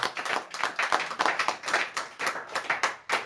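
A church congregation applauds the word of God with brisk, rhythmic clapping of many hands, close and lively, rising and falling steadily for a few seconds with no talking.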